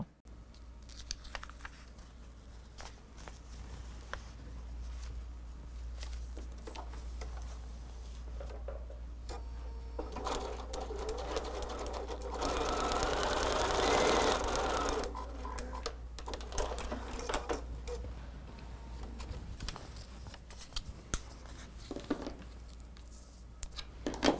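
A sewing machine stitches foundation paper piecing for a quilt block, a steady mechanical hum running throughout with a louder, denser stretch of stitching near the middle.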